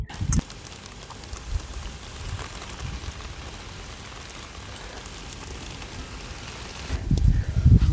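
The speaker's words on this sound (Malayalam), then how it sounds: "മഴ ഇടക്കിടക്ക് കൂടുക അല്ലേ?" Rain falling on a wild island during a survival trip, a steady soft patter throughout with occasional heavier drops and a louder gust of rustling near the end.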